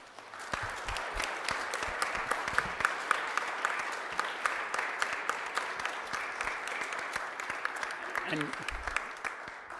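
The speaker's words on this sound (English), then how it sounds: "let's just take a moment and give them a round of applause for saying yes." Applause from the audience at an annual parish meeting, steady and fairly soft, as a room of people claps together for several seconds and a voice briefly speaks near the end.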